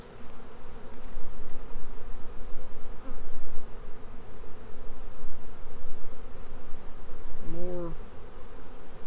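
Honey bees in a strong nuc hive fill the air with a dense, rough buzzing that swells and dips close by, with a brief spoken word and a short tonal sound near the end.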